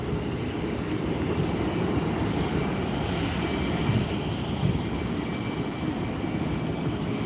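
A Southwest Airlines Boeing 737 MAX 8 jet at LAX airport gives a steady, moderately loud broadband engine roar with a faint high whine, continuous throughout with no talk.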